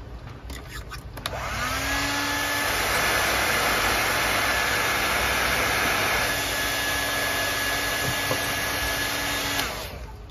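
A hair dryer switches on after a click and blows with a loud, steady whir while drying cloth for miniature gunny sacks, its pitch dipping briefly midway, then cuts off near the end.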